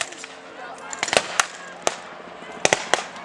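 A German mortar team firing high explosive and smoke shells in wartime combat, heard as a series of sharp, irregular distant bangs over a rumbling background, with a voice talking throughout.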